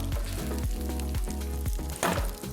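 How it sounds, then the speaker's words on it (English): Loud, steady sizzling and crackling of Korean seafood pancake batter frying in a hot pan over medium heat, continuous throughout, with a musical hum underneath. "we're gonna let this sizzle on the other side for about good 2 minutes on medium heat"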